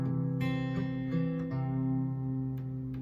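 A fingerpicked guitar with slightly out-of-tune strings rings softly, sustained low notes holding underneath while a few plucked notes sound on top, with no voices.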